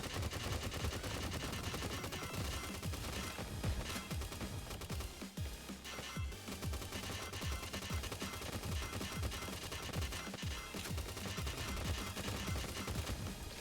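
Dense, rapid gunfire from a shooting video game keeps up almost without pause, loud and close, with bursts of automatic fire stacked together.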